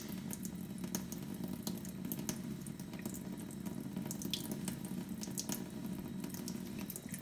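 Steady stream of tap water running from a kitchen faucet while a Berkey water filter element is being cleaned, a continuous close splashing rush with small clinks, no voices.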